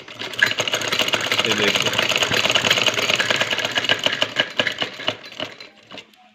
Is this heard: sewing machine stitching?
yes